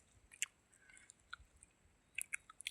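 Raw chickpeas crunch between teeth in a few quiet, scattered bites, with soft chewing in between.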